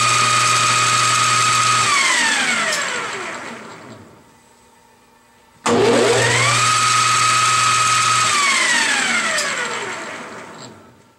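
A 13x40 metal lathe spun up to 2,000 RPM by the jog button, motor whine rising then winding down over a few seconds, then jogged again and coasting down, loud and close with no talk.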